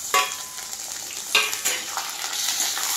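Chicken pieces tipped into a frying pan of lightly fried ingredients, giving a burst of hot sizzling with a few stirring scrapes and clinks, steady and close, no talking.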